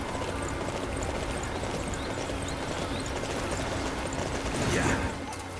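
Steady rhythmic hoofbeats of a horse galloping in the video game Dynasty Warriors 9 over a constant noisy background, swelling briefly louder near the end.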